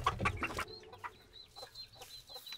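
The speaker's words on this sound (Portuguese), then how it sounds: "Vamos ter galinhas!" Several chickens cluck in short, repeated bursts, fairly close and moderately loud, with a brief louder jumble of farmyard noise at the start.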